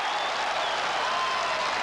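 Large football crowd of over 40,000 roaring after a goal in a 1991 Tasmania versus Victoria match, a loud continuous wash of cheering and applause throughout.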